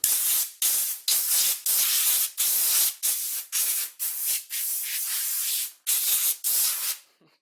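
Compressed air sprays over parts of a Milwaukee circular saw under repair in a series of loud, sharp hissing bursts, about a dozen short blasts in an uneven rhythm with brief gaps between.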